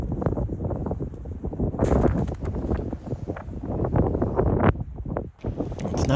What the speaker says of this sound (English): The wind is just howling